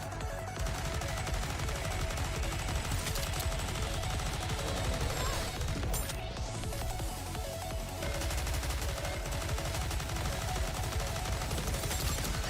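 Continuous, dense gunfire from the video game Goddess of Victory: Nikke, loud sustained automatic fire with little pause, with voices briefly heard over the shooting.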